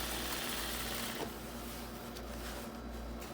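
A sewing machine runs steadily while stitching the side seam of a full flared skirt, a faint continuous mechanical hum with light rattling, heard alone without speech.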